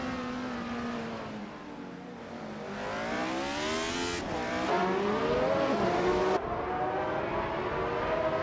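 Several vintage race cars, among them a 1982 Dome RC82, roar off the line at the Baikoniki Oval in a racing video game. The engines rev up with rising, overlapping whines, loud and close, and sharpen as the cars accelerate.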